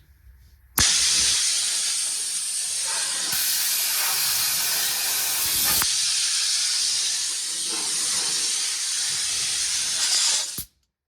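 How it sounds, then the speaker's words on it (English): Compressed air blasts loudly and steadily from a damaged air hose in a garage doing rust repair on a 1978 Ford F100, a harsh continuous hiss lasting about ten seconds before cutting off abruptly. "This hose is messed up, so I take this thing off and it'll blow air everywhere."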